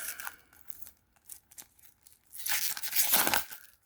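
Sharp tearing and crinkling of a One Piece trading card pack's plastic wrapper, with short rips early on and a louder, sustained tear toward the end, close up.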